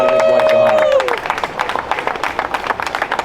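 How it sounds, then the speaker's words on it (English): An audience at a Miami hypercar show applauds a doctor and his wife with steady clapping and crowd babble. A tonal sound fades out in the first second. "Ladies and gentlemen, give a round of applause for Dr. Saman and his wife, Zahara."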